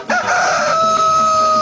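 A rooster crows loudly and close up, one sustained cock-a-doodle-doo call with a strong tonal line holding steady to the end, no talking.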